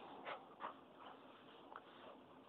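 A dog whimpers softly in a few short, high whines against a steady background hiss, with no talking.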